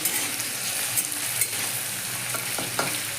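Sabudana (tapioca pearls) for khichdi being stirred and dry-roasted in a pan until light brown, a steady sizzling hiss with intermittent scraping strokes of the spoon, close and continuous with no talking.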